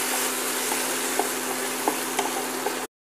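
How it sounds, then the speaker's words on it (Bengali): Spice masala with grated ginger fries in a pan, giving a steady, even sizzle with a few faint clicks of stirring before it cuts off abruptly. "এবারে এটাকে আমি আরও 1 মিনিট মতো ভেজে নিচ্ছি।"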